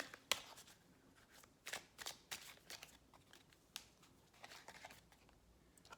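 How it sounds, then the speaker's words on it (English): Romance angel cards being shuffled and handled, giving a faint run of soft papery riffles and flicks in quick irregular bursts, close by, with no talking. "Let's pull a couple of romance angel cards here."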